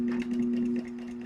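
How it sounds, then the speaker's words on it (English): A sewing machine topstitching along the zipper and contrast top of a zippered bag runs as a steady, close motor hum with rapid, even needle pulses, continuous for the whole moment. "And we're going to top stitch along here."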